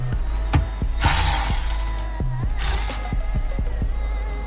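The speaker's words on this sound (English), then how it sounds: "we're gonna do is undo this clamp right here." Ratchet wrench loosening an exhaust hose clamp on a Wet Jet jet ski, heard close up as a series of quick, sharp clicks in short bursts with brief pauses between strokes.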